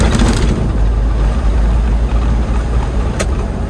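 An Isuzu Elf NHR 55 short truck after a shift into fourth gear drones with a loud, steady engine hum and road rumble heard from inside the cab in busy traffic, with no one speaking.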